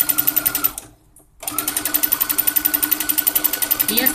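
Sewing machine stitching a patchwork quilt cover in light thread, running in steady rapid rhythmic bursts, pausing briefly near the start and then resuming close and loud.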